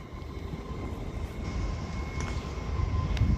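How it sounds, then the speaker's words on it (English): An Avanti West Coast Class 807 electric train, unit 807004, departs Birmingham International on the West Coast Main Line, a steady low rumble with a faint electrical whine that swells gradually nearby, without talk. "this Avanti West Coast Class 807's off with the 11:31 service to London Euston from Birmingham New Street"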